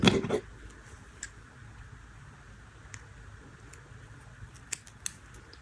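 Scissors give a loud snip right at the start while cutting the seam stitches of a knitted sweater, then only faint ticks and small clicks follow over quiet room hiss.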